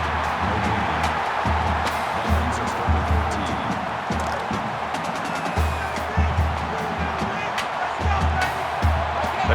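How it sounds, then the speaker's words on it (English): Dense, steady stadium crowd roar from an NCAA 14 college football game at Ohio State's stadium against Minnesota, swelling slightly at moments, with a commentator's voice talking over it. "The crowd at this stadium, always a factor in a football game."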